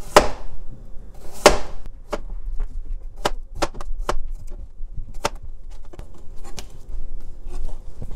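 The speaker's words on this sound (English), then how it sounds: "I'm gonna just use it to slice it up." Knife slicing food on a cutting board while preparing attieke, a series of sharp, separate taps and cuts spaced irregularly, close and fairly clear with no talk.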